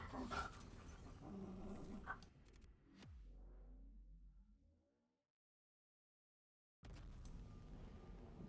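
Dogs wrestle on the floor indoors with low growls and scuffling, close but quiet, breaking off into a few seconds of silence before the noise resumes.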